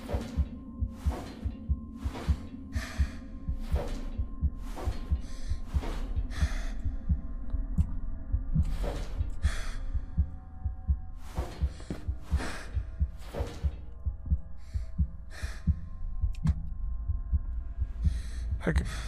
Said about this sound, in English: I could do without the breathing and heartbeat.